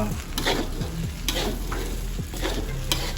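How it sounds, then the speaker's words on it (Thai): Vegetables and carrots for pork fried rice are stir-fried in a pan, with a steady close sizzle and repeated scraping strokes of a spatula in an uneven rhythm. "ผัดไปอีกสักพักหนึ่งนะครับ ผัดไปก่อนสักพักหนึ่ง ให้แครอทมันสุก"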